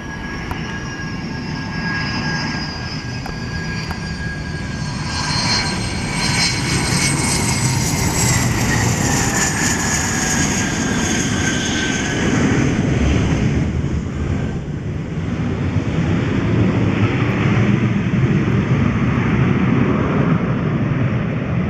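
A Learjet 40 business jet landing at Jundiaí airport in São Paulo state, Brazil, its loud, steady jet engine roar and whine sustained throughout with wind buffeting the microphone.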